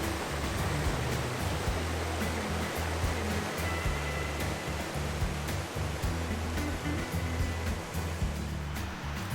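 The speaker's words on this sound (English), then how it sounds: "The creek running through camp really made the atmosphere relaxing and enjoyable." A creek runs through a backcountry campground in Washington, giving a steady, close rush of flowing water with no pauses and no voices.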